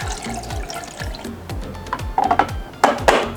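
Fresh filtered water pouring and splashing into a Moccamaster Select filter coffee maker, with a repeating low rhythmic thump underneath and brighter gurgles toward the end.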